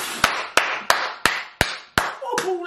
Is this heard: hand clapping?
yes